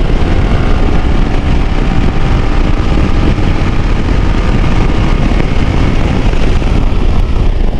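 Hero Xpulse 200 motorcycle accelerating through the gears on the road: a loud, continuous roar of engine and rushing wind buffeting the microphone, steady throughout with no clear breaks between shifts.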